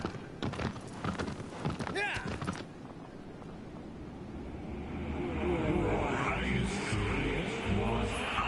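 Horse hooves clip-clop in a steady rhythm while riding in the video game Shadow of the Colossus, with clear game sound and a low rumble building in the background.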